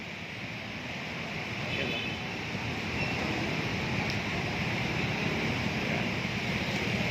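Floodwater of the swollen Marikina River during Typhoon Paeng rushes in a continuous loud roar, mixed with steady wind buffeting the microphone.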